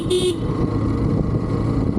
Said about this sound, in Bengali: আমাদের স্টক যে হর্ন ছিল সেই হর্নের সঙ্গে আরেকটি হর্ন লাগানোর পরে কিন্তু এই সাউন্ডটা